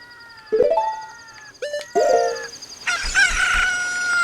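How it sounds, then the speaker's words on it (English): A chicken hatches from an incubated egg in the video game The Legend of Zelda: Ocarina of Time, followed by a loud rooster crow and clucking. The calls come in several bright, stepped bursts, close and alone, with no talk. "Oh, a chicken hatch from the egg we're incubating."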